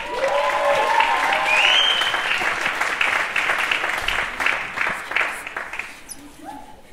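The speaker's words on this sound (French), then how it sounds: "On l'applaudit, Olivier Chartrand." Sustained audience applause in a hall for comedian Olivier Chartrand at a 2018 regional show in Gatineau, dense and loud at first, then thinning toward the end as a voice begins to speak.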